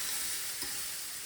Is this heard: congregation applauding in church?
no